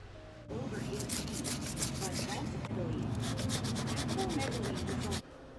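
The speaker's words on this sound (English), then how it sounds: "sanding it down here and there as well" Steady rasping strokes of sandpaper work over the face of a Frankenstein monster sculpture, close and continuous for several seconds before stopping abruptly.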